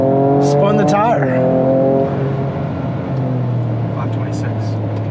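A Ford Ranger Raptor with a Ford Performance ProCal tune roars loudly as it launches and spins a tire, engine tone rising then settling into a steady drone, close and dominant, with voices briefly heard over it.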